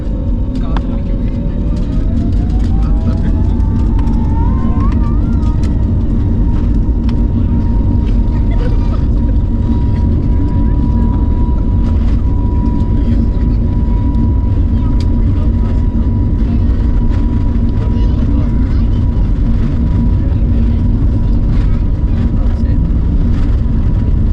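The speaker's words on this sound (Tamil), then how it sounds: "ஏர்பஸோட இன்ஜின் சுற்றுகிறது." Airbus airliner engines roar loud and constant as the plane taxis toward the runway for takeoff. A rising whine builds early, then a steady tone holds over the broadband rumble, with occasional voices in the cabin.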